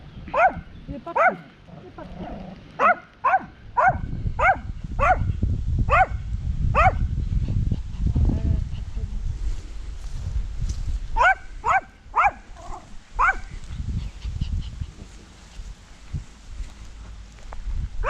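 Small dog yapping in repeated rapid series, several barks per burst with gaps of low rumbling background between, moderately close and clear.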